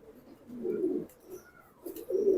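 A young adult male military pigeon coos up close in a low, soft, rolling call, heard twice with a short pause between. The surroundings are otherwise quiet and there is no talk.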